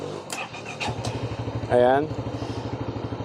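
Small motorcycle engine cranking with a short whir, then catching and idling in an even, rapid putter close by, while someone talks over it.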